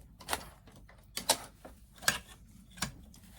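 A sewing machine works through a scrapbook gift card holder in a few short bursts of mechanical clatter, four distinct clicking runs spaced about a second apart, close and fairly quiet.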